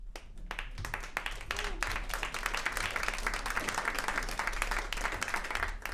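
Audience applause at a live Guardian panel event, a dense crowd of clapping hands sustained throughout at moderate level, with no voices over it.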